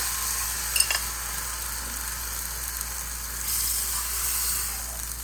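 Buttermilk poured into a hot pan over a very low flame while making vagarela bajra roti, giving a steady soft sizzle and faint frying hiss with a few brief stirring knocks near the start.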